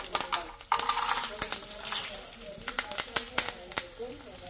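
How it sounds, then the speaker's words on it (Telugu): Tempering seeds, curry leaves, cashews and chillies sizzling in hot oil for mango pulihora, a bright steady crackle with scattered pops and spoon clinks, close by, under someone talking. "తిరగమాత వేసుకోవడం."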